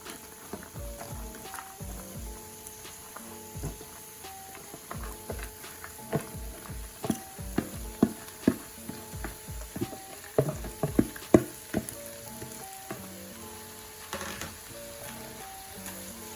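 Cabbage and bacon fry in a pan over medium-high heat while a utensil stirs and scrapes, giving repeated irregular clicks and knocks over a steady background sizzle.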